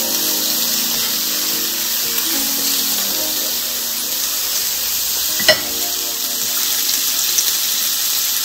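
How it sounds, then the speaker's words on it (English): Four or five bacon slices fry on low heat in a pan, giving a steady, even sizzling hiss close by, broken once by a brief sharp clink midway, with no voices. "I'm going to fry up about 4 to 5 slices of bacon until they're crispy."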